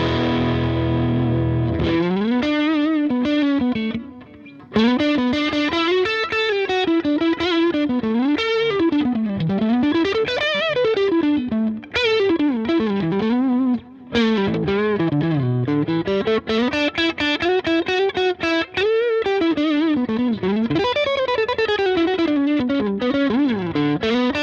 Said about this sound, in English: So, going over to a bit crunchier tones.